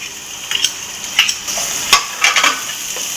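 Tomatoes tossed into a pan of fenugreek curry and stirred, a low sizzle punctuated by several distinct spoon scrapes and clacks against the pan, close and clear.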